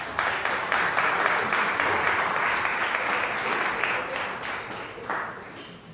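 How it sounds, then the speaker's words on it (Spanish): An audience at an economic development forum in Cobán applauds to welcome a speaker, a dense, sustained round of clapping that gradually thins out toward the end. "Un aplauso, por favor."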